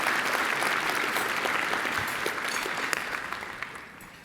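Sustained applause from a breakfast event audience, dense steady clapping that gradually thins and fades toward the end, with no speech over it.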